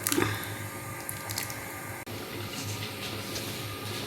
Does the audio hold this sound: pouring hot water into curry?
yes